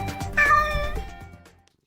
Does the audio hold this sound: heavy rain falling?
no